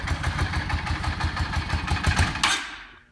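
A 2004 Yamaha V Star 650 motorcycle engine idles steadily with a close, rumbling pulse, then fades out at the end.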